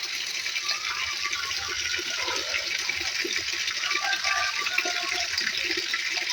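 Water pours steadily into a concrete catfish pond, a continuous bright rushing splash that stays even and close throughout with no talk.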